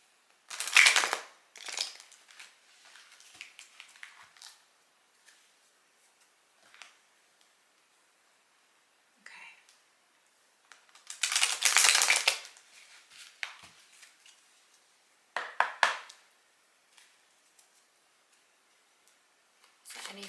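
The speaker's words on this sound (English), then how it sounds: "Let me just shuffle them." Tarot cards are shuffled in a few separate bursts of quick, crisp riffling, with quiet pauses in between and no talking.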